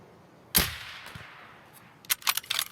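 A sniper rifle shot in Escape from Tarkov rings out near a rock by a camp, one sharp loud crack with a decaying tail, followed by a quick cluster of fainter clicks and rattles.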